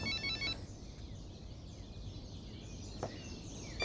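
A telephone bell rings in short trilling bursts, faint and somewhat distant, over a low background hum.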